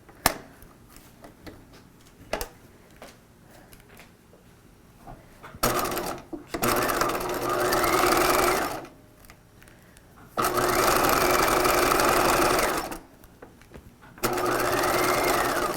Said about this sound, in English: I'm going to restart stitching at this circle.